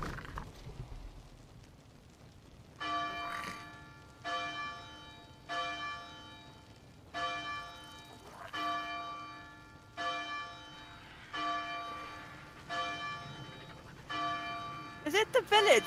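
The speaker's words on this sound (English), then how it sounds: "You can ring the bell." Bell ringing in the video game Scorched Earth, a resonant tolling bell struck about ten times at a steady, slow rhythm, each ring decaying before the next, with faint voices in the background.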